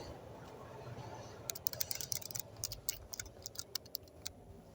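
Keys clatter on a computer keyboard while Python code for a simple cashier program is typed, a quick irregular run of faint clicks beginning partway through over low room hum.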